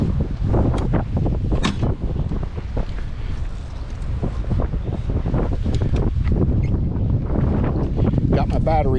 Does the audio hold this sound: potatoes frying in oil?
no